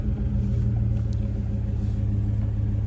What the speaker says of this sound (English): I am now in my truck and we are going to go ahead and turn it on.